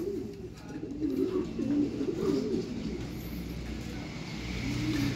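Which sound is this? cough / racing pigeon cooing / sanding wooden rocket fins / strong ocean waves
racing pigeon cooing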